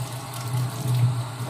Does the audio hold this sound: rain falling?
no